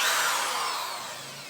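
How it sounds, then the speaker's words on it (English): A power drill bores into the steel body of a Ford Mustang SVT Cobra, whining steadily at high pitch, close and loud, its tone slowly winding down over a moment. "we're going to drill a hole right here into the body"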